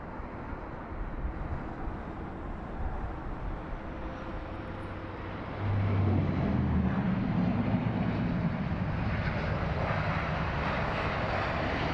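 An Airbus A380 lands in a crosswind at Heathrow, its engine roar a steady distant drone that swells noticeably louder about halfway through and holds there.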